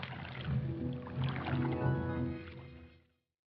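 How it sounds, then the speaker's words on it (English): Canoes paddled down a winding stream, with splashes and water sounds blended into a continuous wash that fades out near the end. "Slowly, we paddled down a strange and wondrous stream"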